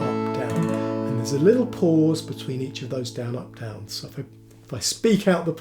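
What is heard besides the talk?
No distinct noise like a dog, phone or traffic.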